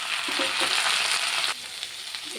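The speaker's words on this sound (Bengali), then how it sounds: "ক্যাপসিকামটা অল্প বাজা হয়ে যাক" Sliced capsicum fries in an oily pan for chilli chicken, a steady close sizzle with light stirring scrapes that eases slightly partway through.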